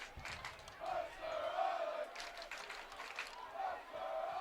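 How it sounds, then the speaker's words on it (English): A big, loud Islander student crowd cheers below the booth at a high school lacrosse game, Mercer Island at Bellevue, with surging waves of shouting and yelling over a few seconds. "The Islander crowd is big and loud right below us."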